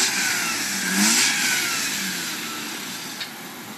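A Mazda RX-8 doing a burnout, its engine revving high and strained with tire hiss, loud and sustained, swelling then slowly easing off.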